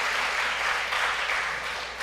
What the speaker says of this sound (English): Did you already vote? If so, clap your hands.